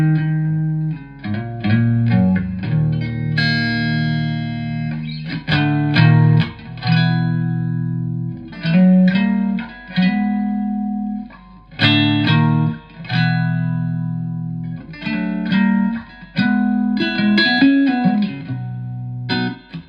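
A Fender Stratocaster plays through a Marshall VS100H Valvestate amp on its clean channel with spring reverb, strummed chords and short picked phrases ringing out in separate bursts with brief gaps between them.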